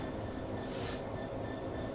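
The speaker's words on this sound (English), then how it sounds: "Another train is approaching." Train in the Train Sim World 4 video game, a steady low rumble of rolling wheels with a brief hissing swell in the middle, moderately loud and continuous, with no speech.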